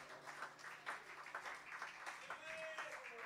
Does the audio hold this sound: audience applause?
yes